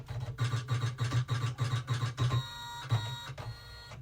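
A sewing machine stitches through fabric in a run of steady, rapid mechanical pulses, about eight even bursts, then pauses and gives a few lighter clicks near the end.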